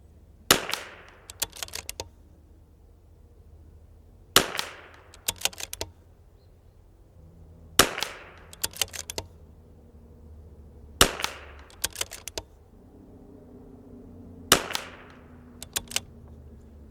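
Five evenly spaced sharp cracks from a .22LR rifle firing ELEY Match ammunition at a 100-yard range, each shot followed by quick clicks of bolt cycling, close and otherwise quiet.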